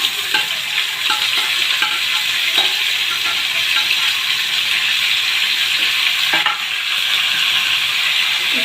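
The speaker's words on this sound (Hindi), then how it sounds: "इसको अच्छी तरह से फ्राई करेंगे।" Tomatoes for an aloo palak sabzi fry in a pan with a steady, bright sizzle. Scattered scraping clicks of stirring sound up close throughout, with no voices.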